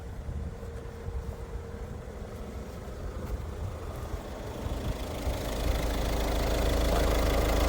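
A 2023 Peugeot 208 engine idles steadily with a low, even rumble that grows slightly louder and fuller over the last couple of seconds, with no talking.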